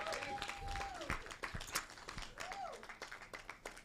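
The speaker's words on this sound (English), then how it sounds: "a round of applause as we welcome Jan Rita Sifa" An audience at a fair applauds to welcome a speaker, a burst of scattered claps that thins out over a few seconds, with a tonal whistle-like sound and some voices mixed in.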